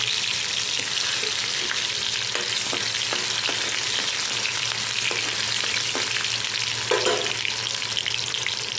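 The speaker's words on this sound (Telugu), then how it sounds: "ఇప్పుడు కర్రీ స్టార్ట్లో జీరా వేసుకొని కట్ చేసుకున్న ఆనియన్స్ వేసుకోవాలి" Cumin seeds and chopped onions frying in hot oil at the start of a curry, a loud, steady crackling sizzle with light periodic taps of a spatula, up close with no one speaking.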